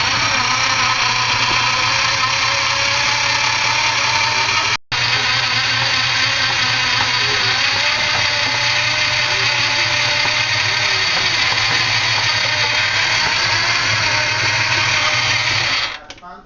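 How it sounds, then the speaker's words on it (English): A grinder churns through chunks of bacon for buffalo burgers, a loud steady mechanical whir running continuously for about sixteen seconds with one brief dropout near the start before stopping at the end. "Grinding up chunks of bacon."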